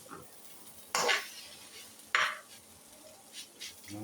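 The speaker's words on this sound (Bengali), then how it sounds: "ভিতর থেকে ভালোভাবে নাড়াচাড়া দিতে হবে, তাহলে পুরো নুডলসের গায়ে সুন্দরভাবে মশলাটা লেগে যাবে" Noodles tossed with spices in a hot pan, with two sharp scraping stirs of a utensil against the metal over a faint background sizzle, followed by a few lighter taps.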